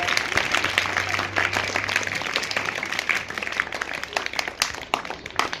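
A school audience at an International Yoga Day event claps to welcome teachers, sustained dense applause from many hands with a faint low hum beneath.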